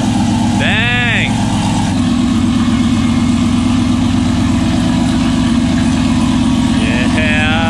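A warmed-up car engine idles with a loud, steady low rumble after a new torque converter install on a turbocharged build, with voices whooping over it near the start and end.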